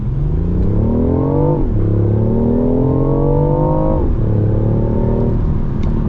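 A BMW i8 Roadster accelerates hard, its engine note climbing sharply in pitch through three gears, with the rev dropping at each of two upshifts. The sound is loud and close, heard from inside the car with no voices.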